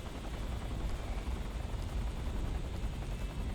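A helicopter in a video game sends out a steady, loud rotor and engine roar that holds for the whole stretch without voices.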